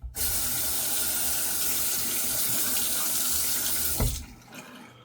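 Water gushing steadily from a tap for rinsing, a loud continuous hiss and splash that stops abruptly near the end, followed by faint dripping and room noise.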